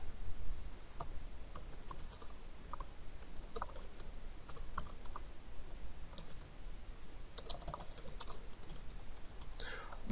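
Code is typed on a computer keyboard, a quiet, steady patter of key clicks in irregular bursts close by, with no voices.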